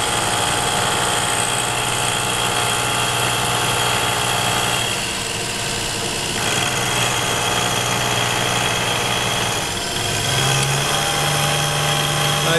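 A Clausing drill press runs steadily at about 1200 RPM, a continuous close motor hum and whine with faint mechanical vibration and a slight change in pitch partway through.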